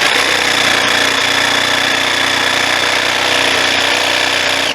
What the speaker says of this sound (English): now I'll just take the jigsaw and I'll run it up